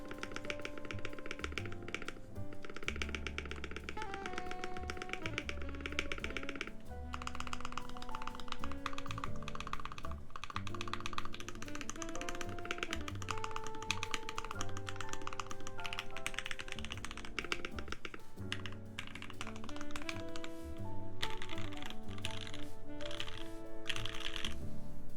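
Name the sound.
typing on Slipline keyboard, spacebar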